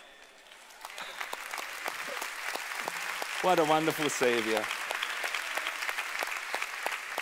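Church audience clapping during an evening sermon, a rhythmic unison clap in steady beats that continues under someone speaking into a microphone.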